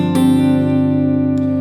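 A sus 11 chord in G rings out once, struck and left to sustain as a steady, harmonically rich tone that slowly fades over under two seconds.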